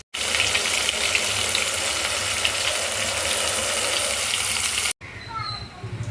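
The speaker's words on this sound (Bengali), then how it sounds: "তো এখন চলছে দেখতে বেগুন ভাজা, ঠিক আছে, বেগুন ভাজা করে হচ্ছে।" Eggplant slices frying in a pan, a loud, continuous sizzle that cuts off sharply near the end, after which a quieter stretch with a voice follows.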